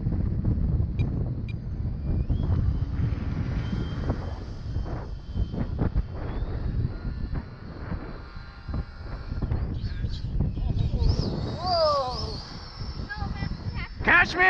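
Strong wind buffets an outdoor microphone at a model jet flying field, a steady low roar running the whole time, with a higher whine rising near the end and voices talking over it.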